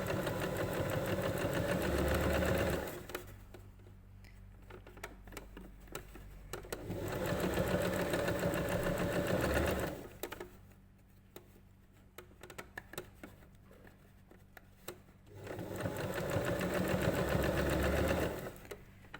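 A sewing machine stitches a narrow rolled hem in three steady bursts of fast, even whirring, with quiet pauses between runs.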